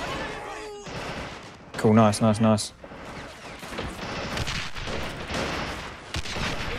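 Machine gun fire in the World War II strategy game Men of War: Assault Squad, a loud burst of rapid shots in the middle amid scattered gunfire and explosions, with someone talking over it.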